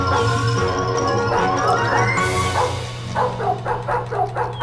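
A herding dog barks repeatedly at pigs close by, a burst of yips and barks in quick rhythm after a whining start, with other farm noise behind.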